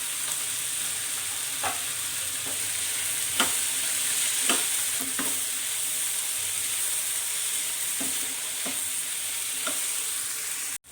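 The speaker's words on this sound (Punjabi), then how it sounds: "ਪਿਆਜ਼ ਟਮਾਟਰ ਸ਼ਿਮਲਾ ਮਿਰਚ ਨੂੰ ਆਪਾਂ ਭੁੰਨ ਲਿਆ ਹੈ" Onion, tomato and capsicum roast in a pan for a ghee-cooked paneer bhurji, a constant near sizzle marked by a string of sharp spatula taps and scrapes at uneven intervals, with no talking.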